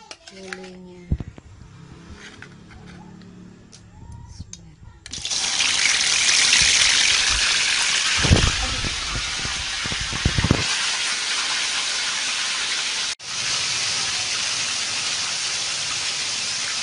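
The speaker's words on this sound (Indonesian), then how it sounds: "kita akan menggoreng lelenya." A loud, steady sizzling hiss bursts in after a few seconds of quiet clatter as catfish is dropped into hot oil, continuing with a brief interruption.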